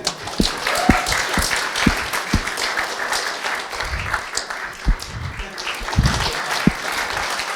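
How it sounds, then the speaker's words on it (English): A church congregation claps hands together during a worship service, a dense steady patter of applause with a few sharper individual claps standing out, under faint background voices. "Can you clap your hands?"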